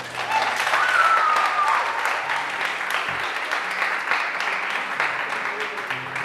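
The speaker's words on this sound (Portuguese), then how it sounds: "Pode aplaudir, pode aplaudir" Audience applauding at a Portuguese-language church talk, a broad steady wash of clapping sustained throughout, fairly loud with faint voices and a brief whistle-like tone mixed in.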